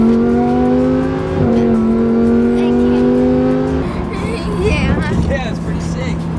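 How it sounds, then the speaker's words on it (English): Supercharged V10 car engine pulling hard through the gears, a loud, rising engine note broken by shift dips, then a rougher, churning stretch with voices talking over it. "Ooh, listen to that. Supercharged V10."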